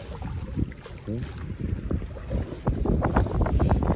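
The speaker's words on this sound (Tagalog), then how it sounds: "Malakas ang hangin." Strong wind at sea buffets the microphone in uneven gusts, mixed with the splash and rumble of large waves; no voices.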